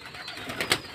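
Pet pigeons make soft, short bird sounds at close range, with two brief brighter bursts near the end that may be coos or wing flutters. No one speaks.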